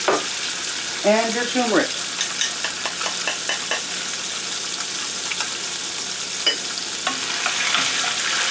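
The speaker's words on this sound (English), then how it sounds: "Now that the oil is hot, go ahead and add your tofu." Tofu sizzles and fries in hot oil for a vegan arroz tapado, with scattered clicks and scrapes from stirring and a brief voice speaking over the steady sizzle.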